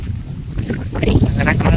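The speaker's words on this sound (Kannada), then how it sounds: "ಗಾಳಿ ಬೀಸೋದೈತಿ ಗಾಳಿಗೆ ಸೂಸ್ ಗಾಳಿ ಬಿಸಾಡ್ತೈತಿ" Strong wind blusters outdoors at the Suvarna Vidhana Soudha, a steady low roar buffeting the microphone and rising slightly toward the end.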